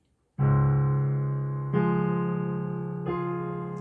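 A piano plays a measure of Debussy's Clair de lune: three sustained chords struck about every second and a half, each ringing on and slowly decaying, close and clear with no talking.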